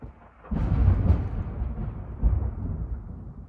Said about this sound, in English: I don't know if you could hear that, but there's this very big storm